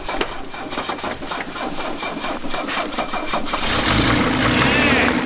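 A car engine cranks and catches on homemade vegetable oil fuel, rattling unevenly before settling into a louder, steadier run near the end; voices talk over it.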